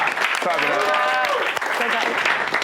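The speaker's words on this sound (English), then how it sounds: "Clap it up. Clap it up." Audience clapping at a fitness club gathering, steady dense applause carrying through the whole stretch with voices and cheering mixed in over it.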